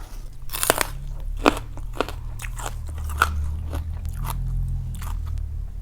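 Someone chews crisp fried water lettuce flowers close to the mic, with loud repeated crunching bites and crackly chewing against a low background hum, and no talk.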